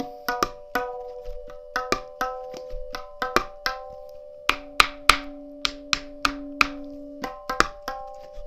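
A small tuning hammer taps repeatedly around the head of a tabla. The sharp strikes come in an uneven series, up close, and a ringing pitched tone holds between them and rises as the head tightens.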